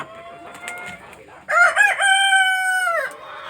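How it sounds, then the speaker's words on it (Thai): Laying hens on a farm, eating chopped grass, call out close by. One loud, drawn-out crowing call dominates over a low background of softer clucks and chatter. "ไก่ไข่ครับไก่ไข่"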